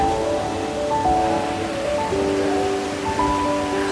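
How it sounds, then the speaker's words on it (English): A river on rural land in Veracruz, Mexico flows with a steady broadband rush, a continuous wash of water noise with faint tonal sounds floating over it. "Finally, we got to the river."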